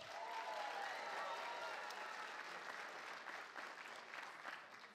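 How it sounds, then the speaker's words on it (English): An audience at a school theater production of The Jungle Book applauds the PTO, a dense, steady round of clapping lasting throughout and easing slightly toward the end. "Give them a round of applause."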